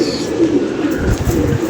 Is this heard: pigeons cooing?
yes